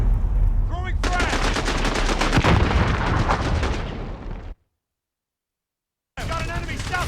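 Machine gun fire and heavy gunfire in a Modern Warfare campaign battle, dense and loud, with shouted voices over the shooting and an abrupt silent gap before the firing resumes.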